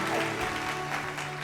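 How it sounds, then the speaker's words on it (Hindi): Studio audience applause greeting a guest onto a Hindi talk show stage, a steady dense wash of clapping under faint music, brief and moderately loud. "जोरदार ताली।"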